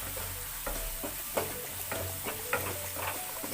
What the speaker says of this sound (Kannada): ಸೊ ಈಗ ಇದನ್ನೆಲ್ಲ ಚೆನ್ನಾಗಿ ಒಂದು ಸಲ ಮಿಕ್ಸ್ ಮಾಡ್ಕೊಳ್ಳೋಣ